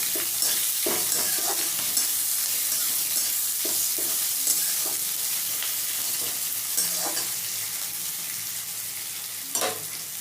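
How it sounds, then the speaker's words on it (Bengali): Onions with green chilies fry until browned in a pan for an egg and masoor dal dish, giving a loud, continuous close sizzle broken by intermittent scraping from stirring. "এবার লাল লাল করে পেঁয়াজটা ভেজে নেব।"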